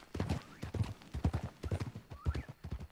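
Horse hooves clip-clopping steadily in Red Dead Redemption II, a quick close rhythm of repeated hoofbeats with a brief whinny-like tone mixed in, no talk over it.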